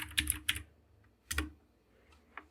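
Typing a command on a computer keyboard: a few quick clustered keystrokes, a pause, a couple more taps, then one faint final press, close and quiet with no talk.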